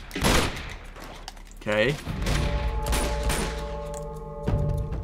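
Enemy gunshots in the action game Uncharted 2: Among Thieves, a few sharp close cracks and a metallic clatter amid game ambience, with someone briefly speaking.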